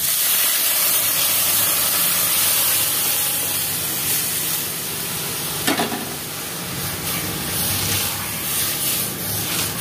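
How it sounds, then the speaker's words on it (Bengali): Lentils poured into a hot pan with tomato for masoor dal, giving a steady close sizzle and frying hiss throughout with a brief louder splash near the middle. "এবার আমি ডালটা ঢেলে দেবো।"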